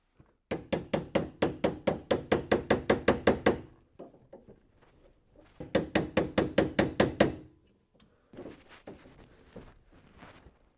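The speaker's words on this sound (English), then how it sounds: "I'll knock that impeller off and see if I get wet." A hammer knocks the seized impeller off a Vaillant boiler pump in two loud, close bursts of rapid metallic blows, each about fifteen strikes long, with quieter fiddling sounds between and after.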